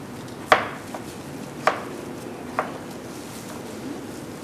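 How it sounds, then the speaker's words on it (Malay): Three sharp knife chops through garlic on a cutting board, spaced about a second apart, fairly close and isolated against quiet room background. "Kita potong aja untuk masuk dalam blender."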